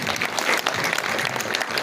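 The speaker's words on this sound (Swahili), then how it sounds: "Tupigie Bishop wetu makofi mazuri." A church congregation claps for the bishop, a dense, even burst of applause lasting under two seconds at close range.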